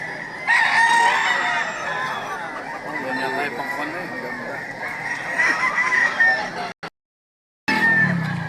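Fighting cocks on sale at a poultry market in Lipa, Batangas crow and cluck repeatedly, loud and close, with people talking among the birds; the sound cuts out briefly near the end before resuming.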